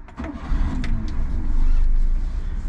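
A Mitsubishi Minica kei car pulling away, its small engine rising into a steady close hum with a few clicks and knocks at the start.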